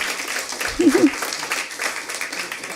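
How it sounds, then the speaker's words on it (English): Applause rises at a school board meeting, a modest round of clapping from a small crowd mixed with a person speaking over it and a brief vocal cheer. "Give a round of applause to these fabulous people."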